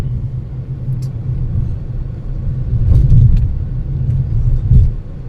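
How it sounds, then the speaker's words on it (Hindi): Inside a luxury electric car on the move, a steady low road rumble fills the cabin, with a few heavier thumps from bumps in the surface; no motor whine stands out and no one speaks. "लग्जरी कार में ट्रेवल कर रहे हैं, ईवी है, बहुत ही बढ़िया ईवी है।"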